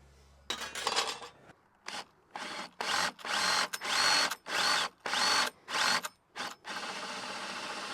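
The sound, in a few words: power drill boring 3/4 inch Forstner bit holes in wood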